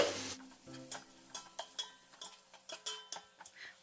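Chopped onions, green chillies and turmeric frying in a pan for jackfruit biryani, heard as a faint sizzle beneath repeated light clicks and scrapes of a spoon stirring against the pan.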